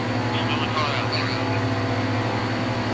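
A stock car engine drones at full throttle in a NASCAR Heat 2 race at Daytona, a steady, loud, unbroken roar, probably with a voice talking over it.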